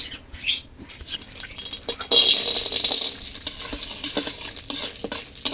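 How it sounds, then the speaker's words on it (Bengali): Raw peanuts frying in mustard oil in a kadai, a steady close sizzle that swells into a bright hiss as they are stirred, with faint scraping throughout. "বাদামটা ভেজে দেবো, সর্ষের তেল কড়াইতে দিয়ে দেবো"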